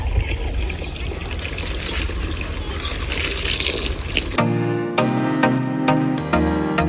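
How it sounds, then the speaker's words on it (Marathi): Water poured onto a rose plant outdoors, first a loud broad gushing splash, then a steadier trickle with bright tonal ringing, close and without talk. "आधी देऊया मित्रांनो गुलाबाला पाणी"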